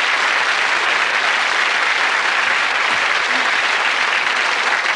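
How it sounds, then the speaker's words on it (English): A television studio audience at a 1994 game show breaks into continuous loud applause, a dense and even wash of clapping that lasts throughout without pause. "a round of applause"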